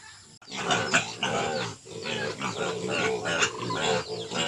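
Newly bought piglets being raised for fattening on a farm grunt and squeal loudly and continuously up close, a busy overlapping chorus of snorts and shrill cries.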